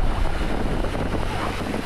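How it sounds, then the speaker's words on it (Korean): Rough North Atlantic sea with waves around 3 m rolling in at the shore where fishing boats wait to launch, a steady loud roar of surf and water mixed with heavy wind buffeting, no voices. "파도가 계속 밀려와서 물때를 지금 보고 있습니다."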